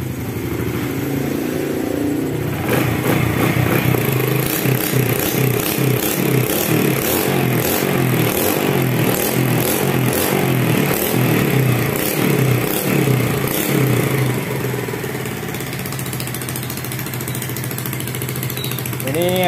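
A carburettor motorcycle mid-conversion to fuel injection runs with its emission hole disconnected, a loud steady engine putter with a rhythmic pulsing chuff under occasional talk, continuous close to the microphone.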